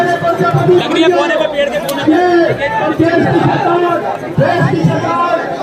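Loud, dense crowd of a Prajapati community protest rally, many voices chattering and calling out at once in a continuous hubbub with occasional shouts rising above the din.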